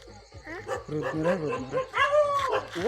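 A dog near a house along a village walking route gives a run of close, yelping barks and whimpers over about three seconds, mixed with voices.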